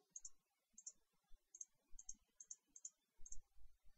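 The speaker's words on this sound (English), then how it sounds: "you select using your mouse, you go along to the color bar on the right, and you click" A computer mouse clicking repeatedly while using a Minecraft printer mod, crisp faint paired clicks in an irregular rhythm, quiet and close with low soft thumps underneath and no speech.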